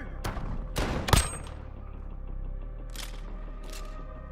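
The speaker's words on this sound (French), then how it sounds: "Je me fais tirer dessus!" Gunfire in Call of Duty: Modern Warfare during a 2v2 match, several sharp loud shots and bursts in the first second or so, then a few more distant cracks over steady game ambience.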